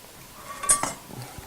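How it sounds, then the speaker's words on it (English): A small heavy iron skillet picked up and handled in a kitchen, with a couple of brief metallic clinks and knocks in otherwise quiet surroundings. "I got a little heavy iron skillet I usually use."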